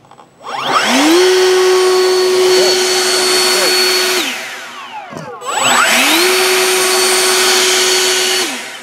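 An EGO 56V 7.5Ah battery backpack leaf blower spins up into turbo mode with a loud rising whine, holds a steady roar, dips briefly, then ramps up again and runs hard, close by.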